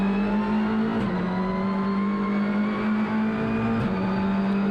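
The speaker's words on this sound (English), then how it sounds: "Great chance to have a listen to this Alfa Romeo Giulietta Veloce." An Alfa Romeo Giulietta Veloce TCR race car engine drones steadily at high revs out on track, loud and continuous with only slight pitch shifts.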